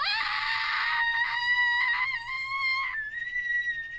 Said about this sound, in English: The old primal scream